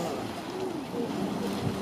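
Water surging and sloshing in waves out of the Dragon's Mouth hot spring vent at Yellowstone, a steady churning rumble with rhythmic breathing-like swells, close and continuous, with low voices underneath.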